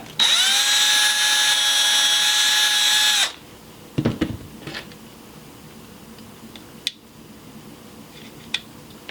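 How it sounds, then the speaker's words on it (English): A power drill whines at high speed for about three seconds, then stops, followed by a few scattered knocks and clicks. "Kind of drill it out a little bit."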